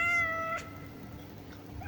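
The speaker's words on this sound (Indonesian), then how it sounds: "Tiba-tiba suara berisik cakaran kucing terdengar menggerus-gerus di plafon." A cat wails in a ceiling as a horror-story sound effect, with drawn-out meowing tones at the start, a brief scratchy burst, then a rising yowl near the end over a low noisy background.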